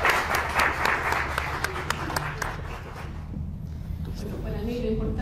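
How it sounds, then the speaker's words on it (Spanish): Applause at a book presentation about Bolivian vinyl and record collectors, a burst of audience clapping that thins out over a few seconds, with a voice talking underneath as it fades. "un aplauso para Sergio por su presentación"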